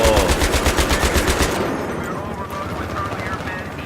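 A tank-mounted machine gun in Battlefield 3 fires a loud, rapid rhythmic burst for about a second and a half, then stops, leaving a rumbling battle ambience with a faint voice underneath.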